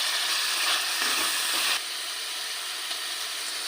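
Masala and garlic hit hot oil in a pan for mutton boti curry, giving a loud, steady sizzle that drops sharply partway through and settles into a quieter, continuing fry.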